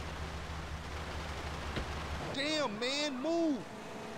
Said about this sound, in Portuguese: Olha a chuva que tá dando aqui.